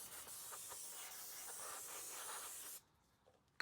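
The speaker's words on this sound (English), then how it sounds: "just using some carb cleaner here to clean up the cradle" Carb cleaner sprayed onto a car's gearbox cradle, a continuous close aerosol hiss lasting almost three seconds before cutting off into near silence.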